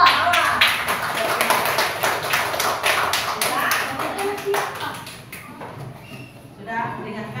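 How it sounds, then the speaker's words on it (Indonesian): A classroom of students claps for a group, a burst of dense hand claps that thins out and fades after about five seconds, with voices underneath. "Tepuk tangan untuk kelompok mawar."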